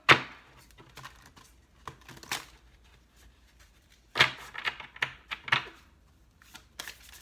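Tarot cards being shuffled by hand, with a sharp riffle at the start and another burst of crisp card flicks and slaps a few seconds later, separated by quiet handling sounds and no talk.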